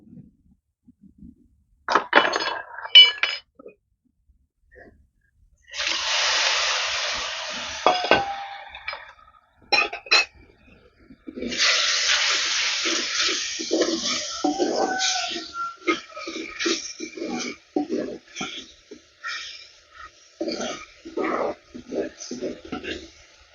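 Soaked kudampuli (Malabar tamarind) water poured into a hot pan of cooked masala for a fish curry, bringing two bursts of hissing sizzle between clinks and brief sounds of handling, with a voice speaking at moments.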